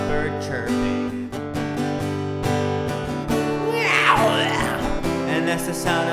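A voice imitates a kitten vomiting with a brief, wobbling, gurgling retch that rises out of a busy children's-song accompaniment partway through, then the music carries on.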